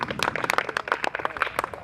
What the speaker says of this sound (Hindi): तो दोस्तों, एक बार इंदौर के लिए तालियां होनी चाहिए।